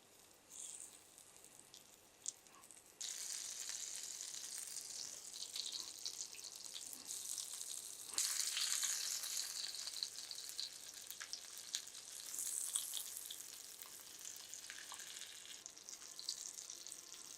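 An egg and flour snack fries in a pan with a faint, steady hiss that grows fuller after a few seconds and continues with small crackles throughout, with no talking.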